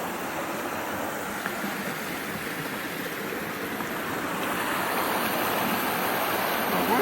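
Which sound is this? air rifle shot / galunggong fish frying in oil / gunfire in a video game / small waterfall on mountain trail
small waterfall on mountain trail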